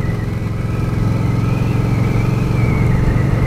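A Rebel motorcycle engine held under throttle while riding at around 30, giving a loud, steady, close mid-pitched engine drone with slight rises in revs and wind rumble.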